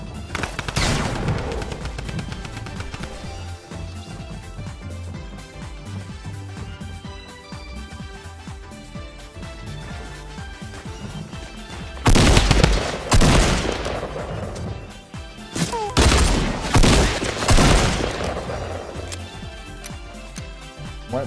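Gunfire in the Fortnite season 5 battle royale, with loud shotgun blasts breaking out in two bursts in the second half over a busy game soundtrack, a voice speaking briefly amid the action.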